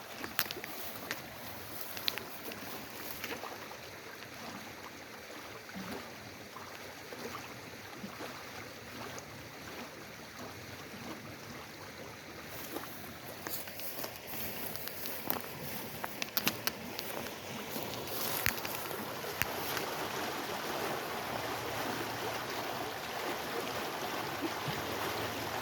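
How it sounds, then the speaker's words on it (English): A creek runs steadily nearby, a continuous broadband wash of moving water with a slight swell toward the end and no talking. "hear the water running?"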